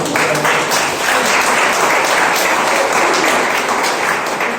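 A church congregation claps together in sustained, loud applause that fills the room evenly from start to finish, with no break in the dense clatter of many hands.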